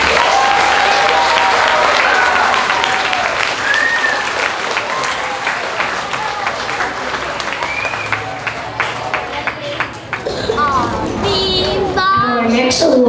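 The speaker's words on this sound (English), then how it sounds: "Let's give our awardees a round of applause." A school assembly audience of grade 3–5 students and families claps for awardees, a steady wash of applause with children's voices and chatter mixed in, thinning toward the end.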